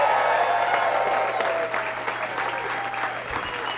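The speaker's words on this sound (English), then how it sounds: "Thank you for clapping like you have any idea who I am." A comedy club crowd claps and cheers to welcome comedian Mike Merryfield to the stage, loud dense applause that eases off slightly toward the end, with a voice briefly audible through it.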